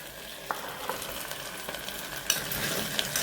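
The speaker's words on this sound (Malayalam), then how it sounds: "ഒരു ഉരുളക്കിഴങ്ങ് അരിഞ്ഞ് 2 സ്പൂൺ എണ്ണയിൽ വഴട്ടുകയാണ്" Sliced potato, onion and slit green chilies sauté in two spoons of oil, a soft continuous sizzle broken by light scraping stirs and small pops, close up with no voices.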